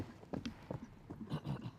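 A horse's hooves clip-clop at a brisk trot on firm ground during a horse-trials trot-up at Blenheim Palace, with a quick, even rhythm, faint and fairly distant.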